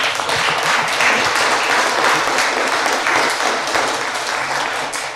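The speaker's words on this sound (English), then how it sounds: "Give them a round of applause, please." An audience at a county justice of the peace candidate forum gives a loud, dense round of applause that holds steady for several seconds before tapering slightly at the end.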